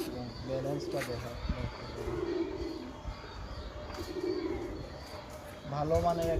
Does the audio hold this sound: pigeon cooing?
yes